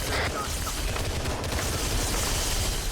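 Distant gunfire and bursts rumble steadily from a firefight in an Arma 3 combat mission, a dense, continuous crackle and boom under a noisy radio-like background.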